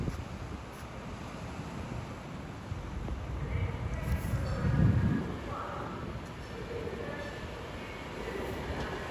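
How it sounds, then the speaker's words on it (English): A Class 390 Pendolino passenger train on the West Coast Main Line pulls into Stafford station, a low steady rumble with a broad swell near the middle, heard at a distance amid wind noise and a faint announcement voice. "Arriving now about 3 minutes late is the 1347 Adventure West Coast service from London Euston to Blackpool North"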